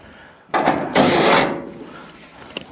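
Quarter-inch screws being backed out of the rear sheet-metal panel of a clothes dryer, heard as a few close, dry scraping and rubbing bursts of tool against metal, with no talking.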